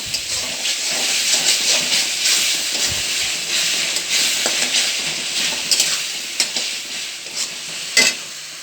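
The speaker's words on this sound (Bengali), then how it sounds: "ভালো করে মশলাটাকে কষিয়ে নেব" Spice paste with turmeric and salt, meant for mackerel, fries in a pan with a loud, steady hiss and sizzle. Small pops and scraping clicks come and go, with a sharper knock near the end and no talking.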